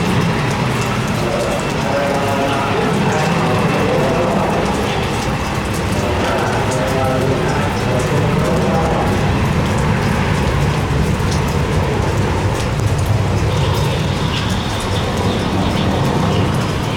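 Steady rain falling on a surface outdoors at an airfield, a dense continuous patter at even loudness over the whole stretch, with faint background activity.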